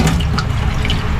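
Mountain-fed fresh water running steadily, a dense continuous rush and splash heard close and loud throughout, with no voices.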